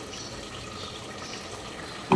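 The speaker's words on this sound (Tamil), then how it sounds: "ஒரு ஒரு லிட்டர் அளவு தண்ணி ஊற்றிக்கோங்க" Water, about a litre, is poured into a pan of mutton gravy cooking with masala and tomatoes, giving a soft, steady wash of liquid with no voices, ending in a short louder bump.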